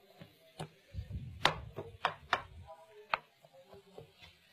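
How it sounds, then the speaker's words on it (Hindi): A knife rough-chops spinach on a board in a series of irregular close thuds and clicks, some heavier than others, with no talking. "पालक इस तरह आपने रफ चॉप कर रहे हैं।"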